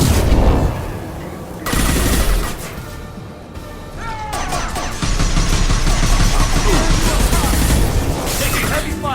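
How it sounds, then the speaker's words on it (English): Heavy gunfire in the sci-fi shooter Mass Effect 2, with loud sustained automatic bursts, crashes and shattering impacts that go on almost without a break, and some voices mixed in. "Taking heavy fire!"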